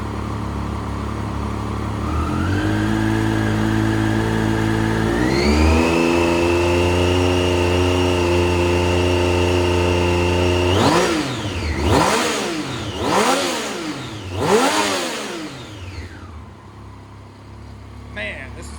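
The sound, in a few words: Triumph Street Triple R 675 motorcycle engine running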